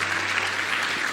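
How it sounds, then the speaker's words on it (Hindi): Steady, loud applause from an audience at a motivational business event for Vestige Marketing Private Limited, a continuous wash of many hands clapping. "मैं चाहूंगा एक बार जोरदार ताली होनी चाहिए वेस्टीज मार्केटिंग प्राइवेट लिमिटेड के लिए"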